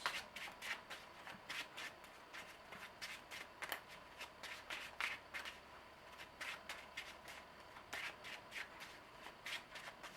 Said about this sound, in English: so we will shuffle this deck and draw a new hand of 6 cards